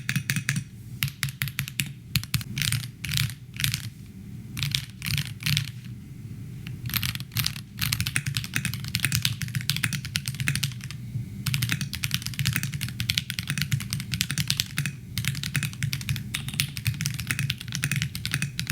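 Typing on a Melgeek Mojo68 Ember mechanical keyboard fitted with Gateron Pro Silver switches: dense, rapid clacky keystrokes in bursts with brief pauses, close and clear with no talking.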